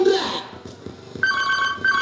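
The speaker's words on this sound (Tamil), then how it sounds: "மறுபடியும் ஃபோன் அடிக்குதுண்ணே." A telephone rings from about the middle onward as a steady electronic tone that repeats in short bursts, fairly clear above a noisy room where voices are heard.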